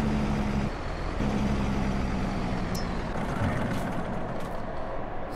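Truck from the Cali pack in Farming Simulator 22, a steady low engine rumble running throughout at close range, with a brief hiss of air release partway through.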